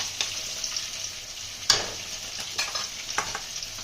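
Pieces of rohu fish fry in hot oil in a pan, giving a close, steady sizzle broken by a few sharp spatters and stirring scrapes, with no voices.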